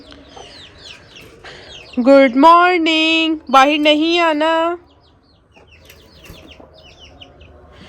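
Hen in a backyard coop with her three chicks, giving a loud run of strained, drawn-out clucking calls, close by, followed by quieter rustling while a person speaks briefly.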